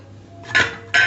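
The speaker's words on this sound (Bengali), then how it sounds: "ভাতটা নামিয়ে দিই।" Two quick metallic clanks of a pot being lifted off a stove after the rice is cooked, loud and close, with near silence before.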